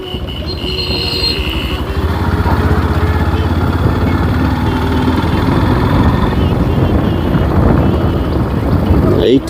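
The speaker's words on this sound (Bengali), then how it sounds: "50 সিসির একটি বাইক, হোন্ডা।" A small 50cc Honda motorbike engine drones steadily and loudly on a village road in Mirzapur, Tangail, swelling slightly after the first couple of seconds, with a faint voice mixed into the continuous noise.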